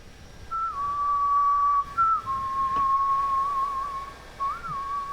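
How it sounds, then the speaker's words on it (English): A Borderlands 3 character whistles a meandering melodic tune, steady and fairly loud, with a short pause partway through and no talking over it. "She just gonna freaking whistle this entire DLC."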